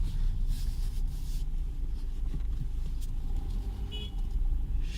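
Car with a failing wheel bearing driving along, a continuous low rumbling drone with steady road and engine noise and a faint brief high tone near the end, with no talking.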